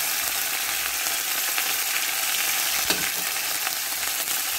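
Curry leaves spitting and crackling in hot oil while tempering the masala for Maharashtrian batata vada, a steady close broadband sizzle with one brief sharper pop partway through.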